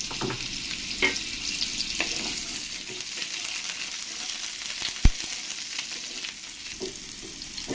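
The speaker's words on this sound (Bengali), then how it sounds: "আলুগুলো ভালো করে একটু লাল লাল করে আমি ভেজে নেব" Potato chunks fry in hot peanut oil with a continuous crackling sizzle, occasional small pops and one sharp knock of a utensil against the pan. No voices.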